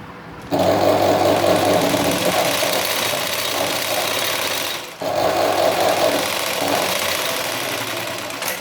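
A sewing machine stitches a blouse in two long, steady motorised runs, loud and close with a rapid even whir, briefly pausing midway before resuming at the same pace.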